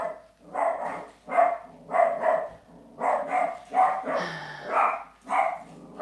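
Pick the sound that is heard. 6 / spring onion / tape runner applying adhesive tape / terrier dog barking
terrier dog barking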